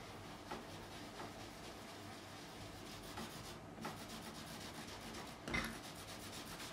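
Paste being rubbed into the fingerboard of a 2005 Fender Standard Stratocaster during a refret, a steady soft rubbing and scrubbing with quiet repeated strokes and a couple of slightly louder swipes near the end.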